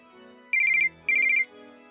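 A telephone ringtone sounds twice in quick succession, two short bright trilling bursts, close and loud, with near silence around them.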